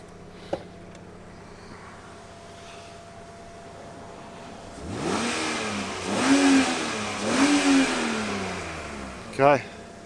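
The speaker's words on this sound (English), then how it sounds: "let's give it a couple of revs while that's open" A 2001 BMW E46 330i five-speed Touring, bonnet open, idles quietly before being revved two or three times in rising, falling sweeps, with a sharp short burst at the end.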